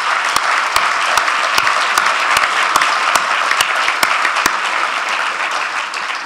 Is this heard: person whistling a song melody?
no